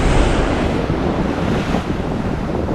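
Waves break and wash along a rocky Konkan shoreline during bait fishing, a steady close roar of surf mixed with gusting wind buffeting the microphone, no voices.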